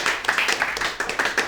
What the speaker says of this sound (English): I love getting applause before I've ever even done anything.